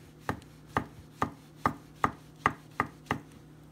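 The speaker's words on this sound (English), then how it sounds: "We'll go ahead and slice that one." A knife slices through a dryad's saddle (pheasant back) mushroom on a board, eight crisp evenly spaced cuts knocking down close and clear, no voices.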